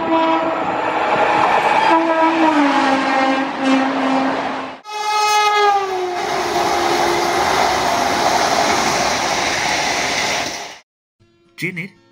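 The Hirakhand Express (18447) rumbles past loudly with a long two-tone horn blast, then the noise cuts off abruptly, followed by a brief faint sound.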